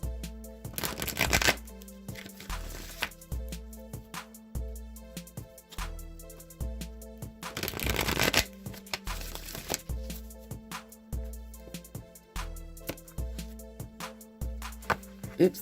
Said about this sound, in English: Now I'm going to shuffle the Wisdom of the Oracle deck.